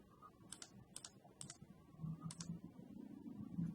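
Keys clack on a computer keyboard in short clustered bursts of quick taps with pauses between, close and fairly quiet over a low steady room hum.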